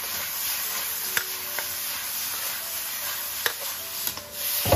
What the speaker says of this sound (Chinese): 炸好的青红椒也给它放进来，然后快速的给它翻炒均匀